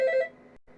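An office telephone rings with a short electronic trill that stops abruptly, followed by a brief faint resumption, heard close and alone.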